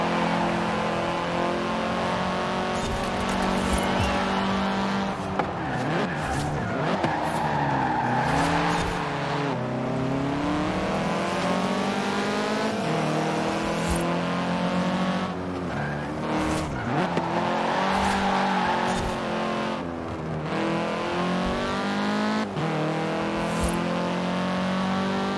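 A Ferrari in the Forza racing game, its engine revving and rising through gears while the tires screech and skid through long drifting slides, loud and continuous, with no talking.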